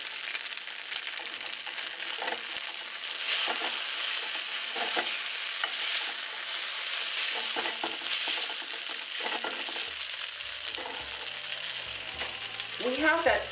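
Vegetarian noodles pan-frying in a hot pan until golden, a steady close sizzle running throughout with occasional stirring or scraping clicks and a brief clatter near the end.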